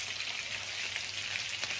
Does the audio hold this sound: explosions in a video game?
no